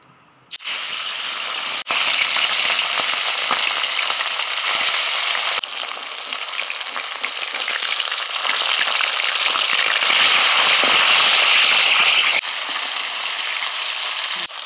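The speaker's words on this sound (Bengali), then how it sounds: "মাছ ভাজা বাবু তাড়াহুড়োর কাজ নয়, আস্তে আস্তে ভাজতে হয়" Fish pieces rubbed with salt and turmeric fry in mustard oil with a loud, dense, steady sizzle that begins abruptly and swells after each addition, alone and up close.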